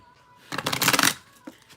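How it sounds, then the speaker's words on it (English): A deck of tarot cards is riffled and shuffled in one quick, close, crisp flurry lasting about half a second, followed by a single faint card tap. "I just fucking shuffled these motherfucking cards and they still want to stay the same"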